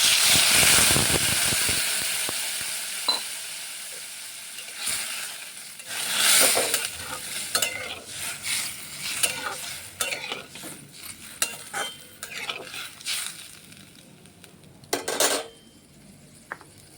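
Ingredients with added sugar fry in a pan for a papaya and fish kalna curry. A loud opening sizzle settles into quieter frying, with a utensil stirring and clinking against the pan.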